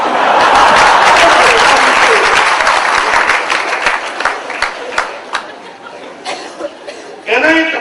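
Lecture audience breaks into loud applause that swells at first, then thins into scattered claps amid chuckles and light laughter, before a voice speaks at the end.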